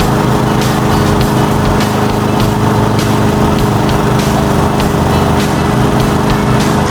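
Old Toro lawn mower engine running steadily after a restart, a loud, continuous close-up drone with a fast, even rhythm and no speech.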